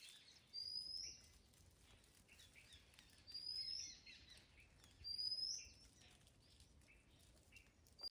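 Faint outdoor air with three brief bursts of wingbeats and high chirping calls as small birds flit past, spaced a couple of seconds apart.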